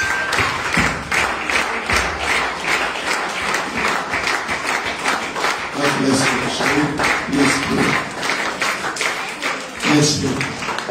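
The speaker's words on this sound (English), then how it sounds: "Keep clapping for him." A church congregation applauds with sustained, dense clapping from many hands, some rhythmic, filling the room while a voice speaks and musical tones sound intermittently.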